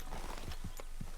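A horse in Red Dead Redemption 2 walks with slow, even clip-clop hoofbeats, a few distinct steps heard up close without talk.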